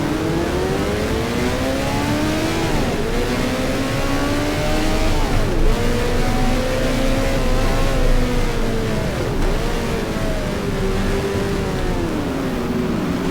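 A 1978-season Formula 1 car in a racing video game pulls out of the pit lane, its engine revving steadily and climbing through repeated gear shifts, loud and continuous with no talk.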